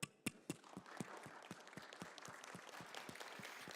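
An audience at a game-graphics conference talk claps for the next speaker, starting with a few sharp isolated claps that quickly swell into steady, moderately distant applause.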